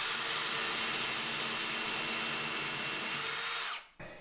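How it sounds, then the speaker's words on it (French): A power drill bores a 10 mm hole about 5 mm deep to seat a screw head while a custom bookshelf is built, making a close, steady high-pitched whir that spins down and stops near the end. "Alors je vais faire un trou de 10 mm juste sur 5 mm de profondeur pour mettre la tête de vis."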